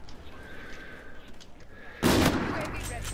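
A sniper rifle shot in Call of Duty Infinite Warfare multiplayer goes off once as a loud, sharp crack with a lingering boom. It follows a quiet stretch of low background game ambience.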